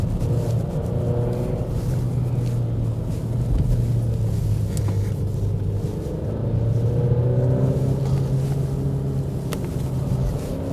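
Alfa Romeo Stelvio driving through curves, a steady low engine drone and road rumble filling the cabin throughout, with slight swells in pitch as the car accelerates between bends.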